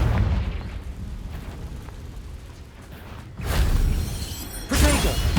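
A Confringo fire spell blasting in the game Hogwarts Legacy, with a loud rumbling explosion that swells after a quieter stretch and a second sharp crackling burst near the end.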